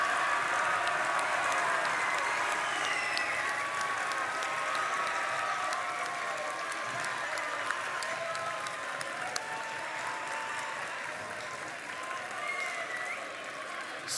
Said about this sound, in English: please stand up so we can give you a big round of applause.